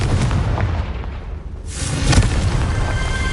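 In the Hogwarts Legacy video game, a Confringo blasting spell explodes in heavy, rumbling booms, with one burst fading out and a second loud blast following about two seconds later.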